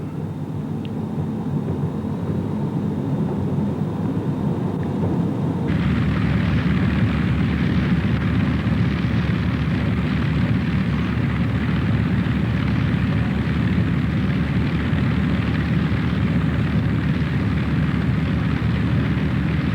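A B-24 bomber named Witchcraft lands and rolls along the runway: a loud, steady, broadband engine roar that grows fuller and louder partway through and then holds, with no voices.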